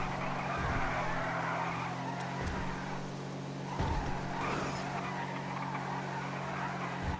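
A Rumpo van fitted with an extra engine and turbo drives in a video game, its engine droning steadily while tires skid and squeal in repeated bursts, loud and continuous without speech.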